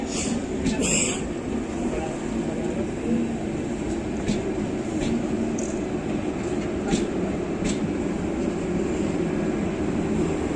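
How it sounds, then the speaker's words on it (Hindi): The Chauri Chaura Express begins to move, a constant low rumbling roar with occasional clicks and knocks from inside the carriage, steady and fairly loud throughout. "चालू होगा ट्रेन"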